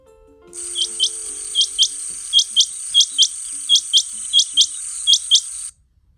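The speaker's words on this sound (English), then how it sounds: "Q for quail. I call, and this is what I sound like." A quail call: paired high chirping calls repeat in a steady rhythm over a constant buzzing trill, clear and close.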